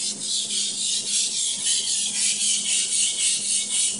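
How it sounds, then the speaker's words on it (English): A large kitchen knife is sharpened on a wet whetstone, giving a steady, close raspy scraping that repeats in even strokes for the whole stretch, with no talk. "Right, but it sounds like sandpaper."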